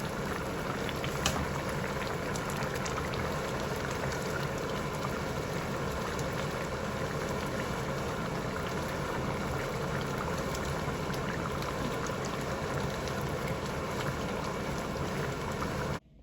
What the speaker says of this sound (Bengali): এই যে আলু সেদ্ধ হচ্ছে